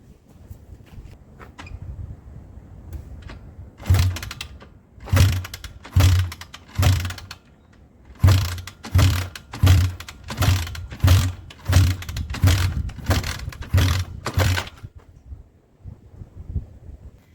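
A 1974 Kawasaki KZ400 barn-find motorcycle with a leaking carburetor being kick-started, a long run of loud, rhythmic mechanical thumps from repeated kicks in close succession, with a few pauses between bursts, and no engine catching.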